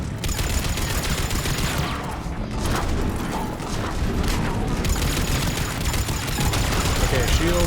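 Sustained automatic weapon fire with disruptor ammo in Mass Effect 3, a dense crackling barrage of shots and mechanical clatter running throughout, loud and close amid battle noise.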